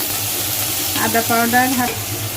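Onion paste frying for chicken korma sizzles loudly and steadily in hot oil, with stirring scrapes and a brief voice partway through.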